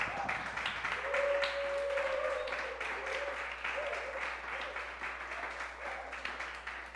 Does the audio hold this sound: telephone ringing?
no